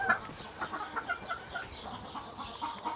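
Chickens cluck softly and repeatedly nearby in short, irregular bursts against a faint background.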